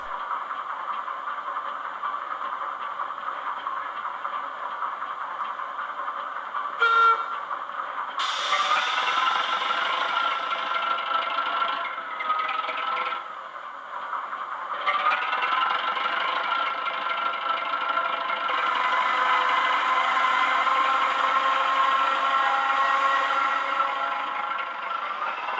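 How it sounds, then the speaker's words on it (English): A Hornby Class 08 model shunter locomotive fitted with a Zimo MX645 sound decoder and two cube speakers, shunting on a test layout. A continuous diesel engine rumble is heard with clanks and shifting mechanical rattles as the revs change. "The shunting sequence showcases the quality installation within such a small confined space, consisting of a Zimo MX645 sound decoder, 2 cube speakers and substantial stay-alive capacitor"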